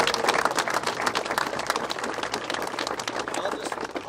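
A round of applause from the audience at the Area 27 grand opening speeches, a dense, steady clatter of many hands clapping at moderate volume that continues throughout.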